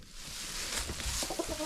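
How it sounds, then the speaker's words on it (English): Chickens with a rooster in a straw-lined coop during a winter snowstorm give soft, faint clucks and short calls against a breezy background hiss. "Got a rooster in there."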